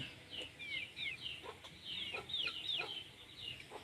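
A chicken clucks in a steady series of soft, chattering calls nearby at a rural Thai home, with no talking over it.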